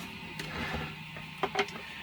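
A printer set up for building an R2-D2 droid runs quietly in the background with a faint steady mechanical whir, punctuated by a few sharp clicks and taps nearby.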